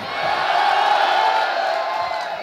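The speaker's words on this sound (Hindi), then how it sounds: "ये सारे ताली बजा रहे हैं" A live audience cheers and whoops, swelling into a sustained, fairly loud roar of voices that holds steady and then eases slightly at the end.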